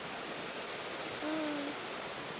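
A waterfall over a rock terrace at Wat Pha Lat temple in Chiang Mai hisses steadily as a faint, even wash of water, with a brief soft tonal call partway through and no talk.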